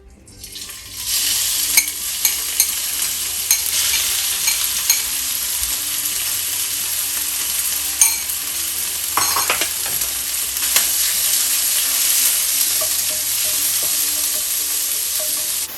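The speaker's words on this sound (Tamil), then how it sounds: "இப்போ நான் சிக்கனை போட்டு 4 to 5 மினிட்ஸ் நான் சொட்டே பண்ணி எடுக்க போகிறேன்." Chicken pieces sizzle and fry in a hot pan while being stirred for chicken fried rice, a steady close crackle with occasional scraping and clattering stir strokes, no talking.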